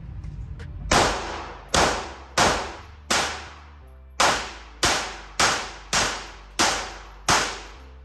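A Sig P365XL pistol fitted with a Grayguns compensator fires about ten sharp shots in a steady cadence, each loud crack trailing off in a brief echo, with no voices between them.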